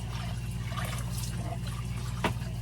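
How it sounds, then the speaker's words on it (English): Water runs and splashes while a cooking pot is rinsed out at an RV campsite, a steady close trickle with a brief louder splash near the end. "Rinse it out."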